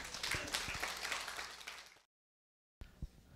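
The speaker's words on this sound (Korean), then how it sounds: "여러분 큰 환영의 박수 부탁을 드립니다" Welcoming applause from the audience at a civic humanities symposium lecture, sharp distinct claps from a sizable crowd for about two seconds, then a cut to silence and a few quieter claps afterward.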